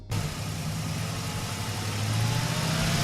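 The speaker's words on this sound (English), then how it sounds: "listen to the only naturally aspirated V8 you can buy in South Africa right now with a warranty" Ford Mustang GT with a 5-liter naturally aspirated V8 holds a steady, loud low rumble that swells slightly toward the end, a continuous near engine note with no talking over it.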